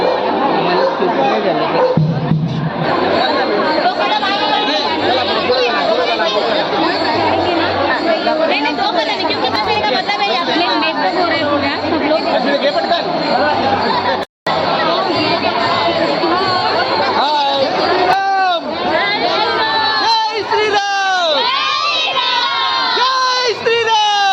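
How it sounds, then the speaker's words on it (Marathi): A crowd at a kalash yatra procession in a Navi Mumbai village cheers and celebrates, with loud continuous chatter, children's shouts and whoops filling the scene throughout, briefly cut off once near the middle. "जल्लोष बघा जल्लोष जोश हाय जोश"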